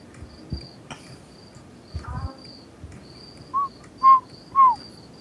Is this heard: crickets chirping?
yes